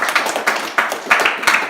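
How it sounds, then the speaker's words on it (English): Scattered applause from a small reunion audience for a Survivor webisode, a handful of claps in uneven bursts, fairly close and brief, with a bit of voice mixed in. "Give a round of applause to the audience"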